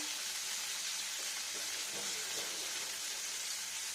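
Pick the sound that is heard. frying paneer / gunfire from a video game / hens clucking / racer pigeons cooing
frying paneer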